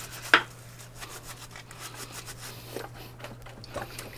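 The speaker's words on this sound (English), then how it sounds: "Soapy water. Get it going like that, you know, just give it like a good wash" A paintbrush used for varnishing a yacht's capping rail is scrubbed in soapy water, making soft repeated rubbing and swishing strokes close up, with a brief sharp tap near the start.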